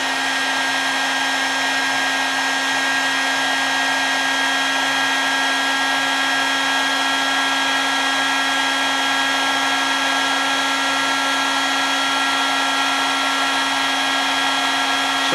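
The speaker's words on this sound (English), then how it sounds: "I got my heat gun here. Let me just heat this up real quick." A heat gun blows hot air onto a thermostat probe, giving a loud, constant whirring roar with a steady hum underneath that lasts the whole time, with no talking.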